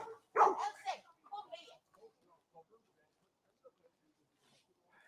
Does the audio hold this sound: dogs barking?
yes